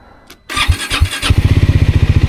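A Triumph Scrambler 400X motorcycle engine starts up close by: a brief crank and catch, then a steady, rhythmic idle thump.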